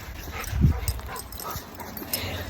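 Dogs with the zoomies being walked outside give a short whimpering yip and a soft bark near the start, then quieter scuffling and faint rustle.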